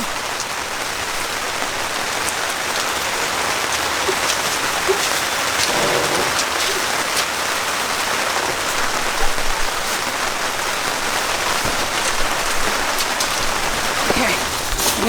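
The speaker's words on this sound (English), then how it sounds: "Figures that it would start like raining really hard as soon as I was like trying to navigate this tent awning thing." Heavy rain pours onto a tent awning, a dense, continuous patter that stays loud and even throughout with occasional heavier splatters.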